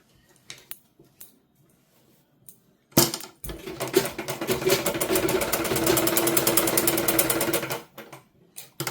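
A sewing machine stitches the side seams of a suit, a steady, rapid mechanical whir of about five seconds that starts sharply after quiet handling noises and then stops abruptly.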